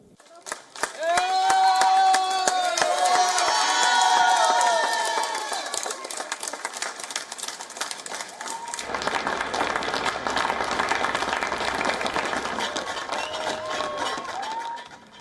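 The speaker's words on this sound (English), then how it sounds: "This was the NHS clap." Public applause for healthcare workers during the NHS clap in Britain: many people clapping at once from nearby and across the street, with whistles and cheers in the first half, then a thinner, scattered patter of hands that continues to the end.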